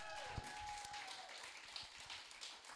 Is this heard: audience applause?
yes